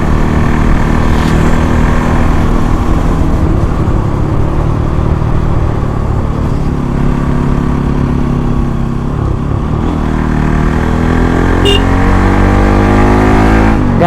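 A Bajaj Pulsar NS200 200cc motorcycle runs at high speed on the road, its engine holding a loud, steady drone mixed with wind rush and a slight shift in pitch as it pulls.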